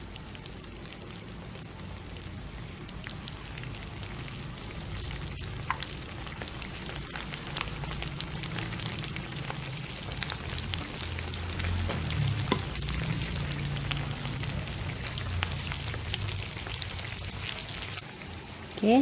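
Slices of jadah sticky rice cake fry in hot oil, a steady crackling sizzle throughout with occasional clinks of a utensil, no talk.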